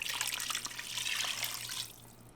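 Two cups of water poured into a Ninja Foodi pot over browned beef for birria, a soft splashing trickle lasting about two seconds before tapering off, quiet and close.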